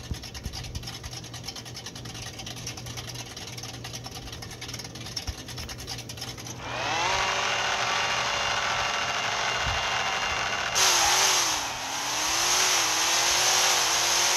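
Drag race car in the No Limit Drag Racing 2.0 video game, an engine idling and then launching into a loud rising roar with wheel spin, and a second surge after a gear change. No one speaks.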